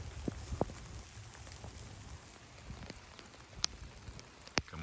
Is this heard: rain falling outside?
yes